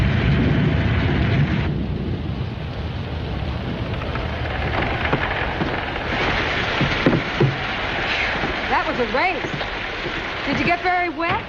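A storm brings steady heavy rain, a dense continuous wash of noise, with possible low thunder beneath it; voices speak over the downpour in the later seconds.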